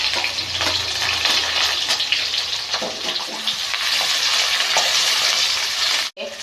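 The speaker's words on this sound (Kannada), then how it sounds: "ಎಣ್ಣೆ ಬಿಸಿಯಾಗಿದೆ ಈರುಳ್ಳಿ ಬೆಳ್ಳುಳ್ಳಿ ಲವಂಗ ಕರಿ ಹಾಕ್ಬಿಡಬೇಕು ಮೆಣಸಿನ್ಕಾಯಿ ಕರಿಬೇಕು" Onion, garlic and cloves frying in hot oil with mustard seeds and cumin, a loud continuous close sizzle and crackle with faint stirring, cutting off briefly near the end, with no voices.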